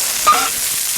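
Chili and ginger hit hot oil in a wok and stir-fry with a loud, steady sizzle, a brief scrape of the spatula standing out near the start.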